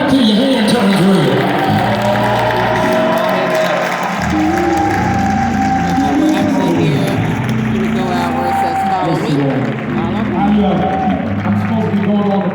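A Baptist church congregation claps and cheers in a sustained, loud roar of applause and voices, with hand claps blending into crowd noise and a speaking voice riding over the top throughout.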